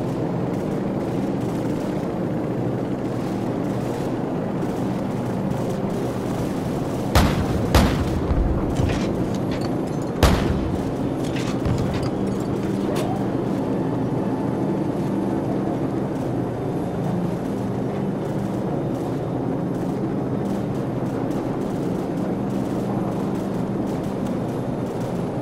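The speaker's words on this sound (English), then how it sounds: "be advised, friendly helicopters entering the area" In Call of Duty 4: Modern Warfare, continuous rumbling helicopter rotor noise fills the scene, broken by a couple of sharp, loud explosive booms partway through.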